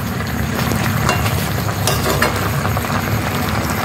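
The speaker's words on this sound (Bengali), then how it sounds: "চিকেন কষানো হয়ে গেছে" Chicken pieces with drumsticks sautéing in a pan, a continuous loud sizzle with occasional scraping stir sounds throughout, no voices.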